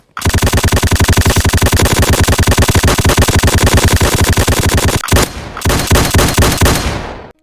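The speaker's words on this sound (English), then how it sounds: "I actually managed to make some cool guns that shoot and actually look cool." Placeholder gunshot sounds from guns in a Roblox game fire in a rapid, steady automatic stream for about five seconds, loud and close, then break off and resume in a second burst.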